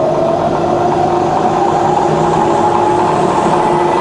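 A rebuilt Bridgeport milling machine with a 42-inch table runs its spindle at 130 RPM in the middle speed range, making a steady, loud, even motor hum with no voices.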